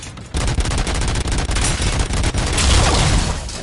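Rapid bursts of gunfire in RoboCop: Rogue City, dense overlapping shots and booms crowding together, loud and continuous for a few seconds.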